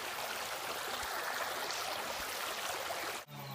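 A river stream flows in a steady, dense rush of water that holds even throughout, then breaks off abruptly just before the end.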